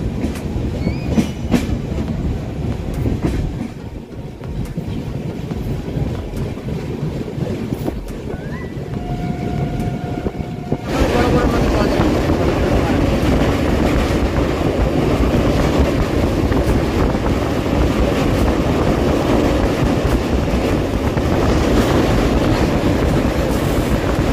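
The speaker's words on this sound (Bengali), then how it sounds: "জাসপুর স্টেশন ছেড়ে চললো পুরীর দিকে।" Dhauli Express passenger train running from Jajpur toward Puri, a steady loud rumble of wheels on rail with rhythmic clatter, quieter at first and then louder and fuller as the train gathers speed, with no talk.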